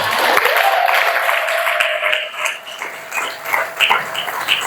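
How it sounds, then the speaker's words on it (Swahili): A church congregation claps together in a sustained burst of applause, a dense, steady patter that thins out toward the end. "Pigie Yesu makofi."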